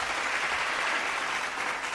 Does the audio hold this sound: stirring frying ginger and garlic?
no